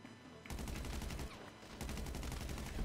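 Special carbine fire in a GTA 5 Online deathmatch, fast rattling automatic bursts that run loud and steady with a short pause midway before resuming.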